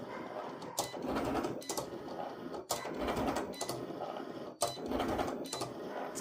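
A cutting machine punches out holes in a repeating mechanical pattern, bursts of whirring motor and clicking separated by sharp stops roughly every two seconds, close and moderately loud.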